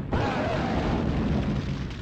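Field guns firing in the WWII strategy game Sudden Strike, a heavy booming blast with a low rumbling roll that fills the short stretch, close and loud with no talk over it.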